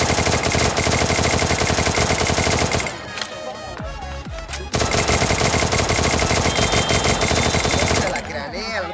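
Thompson submachine gun firing in the video game Free Fire, a loud sustained burst of rapid automatic shots that breaks off briefly and then resumes, with no talk over it.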